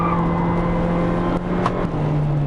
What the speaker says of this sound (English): engine still makes a bit of a drone